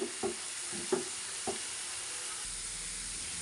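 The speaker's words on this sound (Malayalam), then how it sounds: "ഇപ്പോൾ ഇതാ പാവയ്ക്ക നല്ല പോലെ ഫ്രൈ ആയി വന്നിട്ടുണ്ട്." Bitter gourd frying in hot oil until golden gives a steady, close sizzle, broken at the start by a few light knocks from stirring, then a smooth, unbroken hiss.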